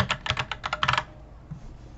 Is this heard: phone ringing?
no